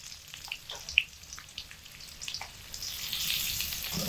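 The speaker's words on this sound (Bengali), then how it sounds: "এই একই তেলে কেটে রাখা আলুগুলোকে দিয়ে ভেজে নিচ্ছি।" Cut potatoes fry in oil in a pan with a soft, steady sizzle and scattered crackles, growing a little louder toward the end.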